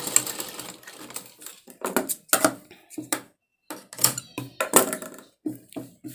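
Sewing machine stitching blouse fabric, close and fairly loud, running in short bursts of rapid mechanical clatter separated by brief pauses.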